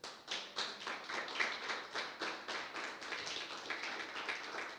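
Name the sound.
audience clapping once on request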